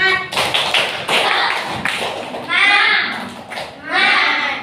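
Classroom children perform the 'tepuk semangat' rhythmic clapping chant, bursts of sharp claps in a patterned rhythm mixed with their chanting voices, loud and near.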